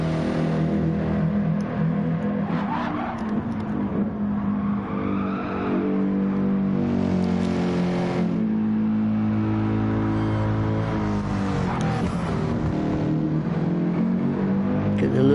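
Race car engines roar in a video game race, the second and final race at Rose Atlanta, a steady droning whine shifting in pitch as cars accelerate, heard under continuous commentary.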